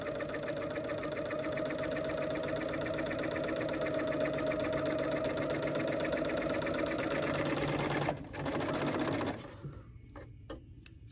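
A Bernina L 850 overlocker runs at speed sewing a flatlock stitch on serger lace, a steady rapid mechanical whir and ticking that stops near the end, followed by a few sharp clicks.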